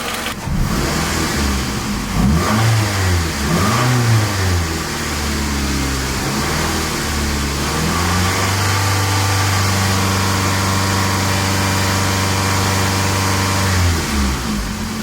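A Toyota Camry engine idling steadily after a head gasket replacement, a continuous loud hum with stable tonal bands and a brief revving swell near the start, no talking.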